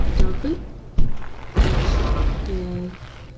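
Several muffled booms from a video game explosion in Happy Wheels go off in quick succession, each followed by a brief rumbling tail, with faint game sounds between them.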